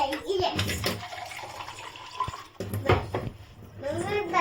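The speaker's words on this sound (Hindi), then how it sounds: "मैंने टैप का ही पानी डाल दिया" Tap water running and splashing into a child's sipper bottle, uneven bursts of watery splashing with a child and an adult talking over it.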